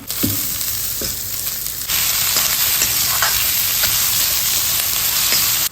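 Onions sizzle and crackle steadily in hot oil, a dense continuous frying hiss with occasional stirring scrapes, no voices.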